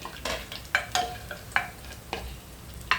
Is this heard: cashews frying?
yes